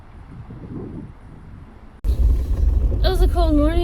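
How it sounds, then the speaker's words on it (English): Wind gusts buffet the microphone at a waterfall camp on a cold morning, a low rumble that turns suddenly loud and blustery halfway through, with a voice talking over it near the end. "It's cold and windy this morning."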